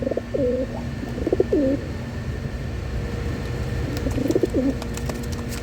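A pigeon coos twice, a few soft rolling calls each time, close by over a low background hum, aboard a ship.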